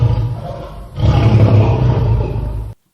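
A loud, sustained lion roar rises after a brief dip near the start, swells through a second burst, then cuts off abruptly into silence.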